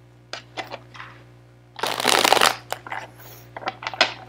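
Tarot cards shuffled by hand at close range: a few light taps and slides, then a dense half-second burst of riffling, followed by more scattered card clicks over a faint steady hum.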